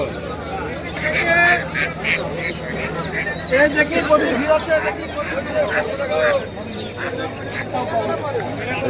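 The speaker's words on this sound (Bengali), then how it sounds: "হাঁস মুরগির বাজার, মুরগি হাঁস সমস্ত কিছু পাওয়া যাচ্ছে।" Busy poultry market in Bongaon where ducks and chickens are sold, with a steady hubbub of crowd chatter and scattered bird calls and honks throughout.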